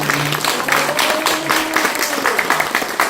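An audience at a cyber university meeting applauds in a steady burst of clapping, with voices and a sustained tone running underneath.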